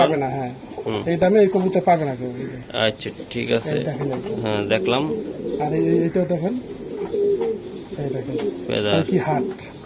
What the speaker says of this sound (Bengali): এগুলো আমার ঘরের কবুতর